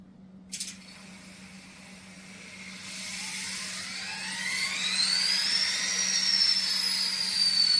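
Three ScaleTrains SD40-2 model locomotives start up together: a click, then rising electronic whines and turbo-like sweeps that build in pitch and loudness over a low steady hum.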